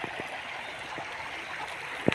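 A river flows as a steady, broad rush of water with small gurgles and one brief splash near the end, constant and moderately loud with no voices.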